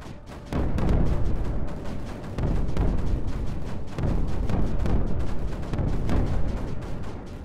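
Repeated explosions and artillery blasts from the strategy video game Creeper World 4, a dense, continuous rumble of booms with sharp bursts recurring every second or so, loud and steady throughout.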